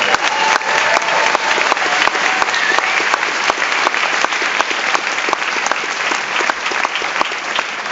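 An audience at a film Q&A applauds the actress, with dense, steady clapping from a crowd that holds at full strength for about eight seconds.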